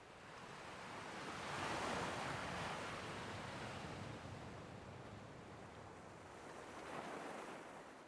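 Ocean waves wash in steadily, a broad rushing surf that swells louder around the middle and again near the end, with wind noise mixed in and no voices.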